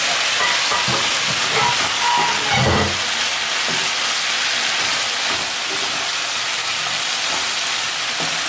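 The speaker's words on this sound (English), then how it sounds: "Yes, our water is boiling very nicely." Water at a steady rolling boil in a pot on a home stove while chicken Alfredo is cooked, a continuous close bubbling hiss with faint clinks, no talking.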